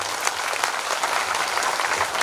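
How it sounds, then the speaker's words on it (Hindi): An audience at a Holi festival gathering claps steadily to honour a visiting mahatma, producing a dense, even wash of many hands that holds without a break. "ताली बजाकर इनका सम्मान करें"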